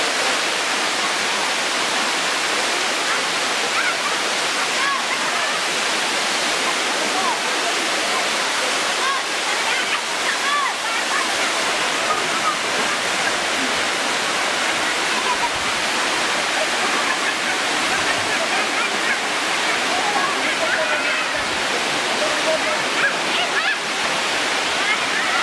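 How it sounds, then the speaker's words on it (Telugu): A hillside waterfall reached on a trekking trail gives a loud, unbroken rushing roar heard close by, with a voice faintly audible under the water. "వాటర్ ఫాల్ చూపిస్తాను ఇప్పుడు."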